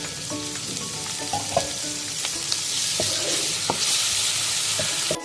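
Steady loud sizzling of ginger and garlic frying in a hot pan with lightly browned onions for kofta curry, with occasional scrapes and clinks of a stirring spoon; no talking.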